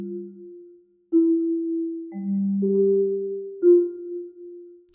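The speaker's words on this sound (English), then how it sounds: "The Wood Marimba looks and sounds like this." Wood marimba playing a slow sequence of single notes, each mellow tone struck and sustained, clear and solo.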